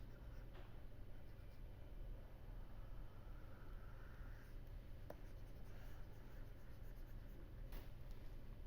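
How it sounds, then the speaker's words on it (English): Pen writing notes on paper, faint scratchy strokes in short bursts over a steady background hum, close and quiet with no talking. "I will write it down so that you will remember."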